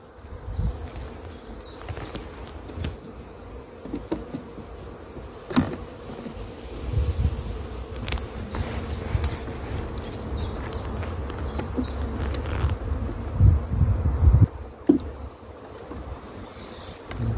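An open hive holds a small colony of black hybrid honeybees in a spring apiary. A steady, close buzzing hum of many bees comes with occasional knocks and handling noises, and no one talks.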